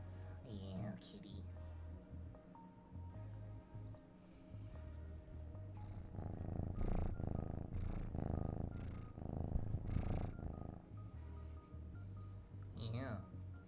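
A cat purrs close and steady in long rumbling pulses, with a person talking quietly over it at times.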